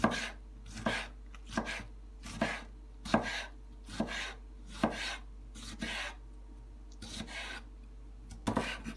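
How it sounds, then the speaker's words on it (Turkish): Steady knife chops through tomatoes on a cutting board, about a dozen crisp strikes in a loose rhythm, close up with a low hum underneath. "Domatesimizi şöyle birkaç yerinden çizikler atıp küçük küçük doğrayalım."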